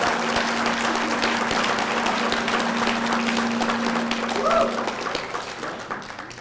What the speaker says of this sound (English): Actually, I should have told you that you shouldn't have clapped at the end.